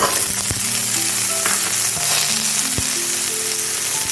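Cut potatoes fry in hot oil over a tempering of five-spice and asafoetida, a dense close sizzle with sharp spatula knocks and scrapes against the pan at intervals.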